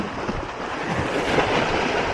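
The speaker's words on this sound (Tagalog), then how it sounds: "Sobrang lakas ng hangin. Ng alon." Strong wind roars off the sea at Talim Island as rough waves break and wash in, making a dense, continuous rush close to the microphone.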